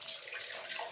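Milk is poured into a pot of cooled payasam, making a soft, continuous splashing trickle up close for under a second.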